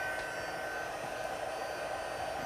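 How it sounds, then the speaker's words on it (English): Steady whoosh of a heat embossing tool blowing hot air over a stamped card piece, a constant close, loud hiss with no pauses. "you can continue to move your heat tool"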